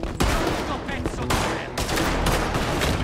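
Dense gunfire in Red Dead Redemption 2 during the Saint Denis bank robbery shootout, with loud shots and bursts crowding together over a continuous noisy backdrop.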